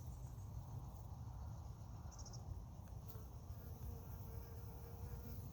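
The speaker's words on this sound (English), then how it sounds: "A happy bee out already, playing in the blossom." A bee buzzes faintly among garden blossoms on a summer day, a soft continuous hum under a steady wash of insect and outdoor background noise.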